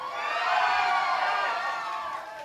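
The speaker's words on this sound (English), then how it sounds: "Toni, did you hear all them screams? I want to do it again." A live concert crowd at a London venue screams and cheers in a loud, sustained roar of high-pitched voices that swells and then eases slightly over a few seconds.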